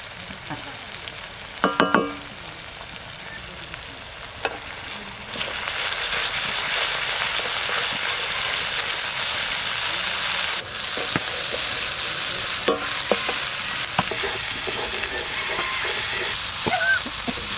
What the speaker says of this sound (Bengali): টমেটো দেবো এবার, এবার দেবো মশলা তেলের উপর।